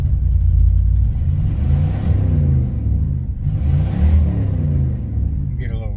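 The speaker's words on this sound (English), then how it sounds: "get a little revving in," A car engine rumbles loudly and close, its pitch rising and falling through a couple of revs, with a voice speaking over it.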